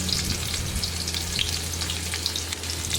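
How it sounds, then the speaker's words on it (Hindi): Onions frying in hot oil for a tadka, a steady close sizzle and crackle with small pops and a faint low hum underneath. "देखिए पहले प्याज डाली है, प्याज पहले गोल्डन ब्राउन करनी है।"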